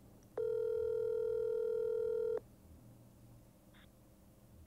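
One ringback burst from a phone waiting for an answer hums steadily for about two seconds, clear and alone, before dropping back to near silence.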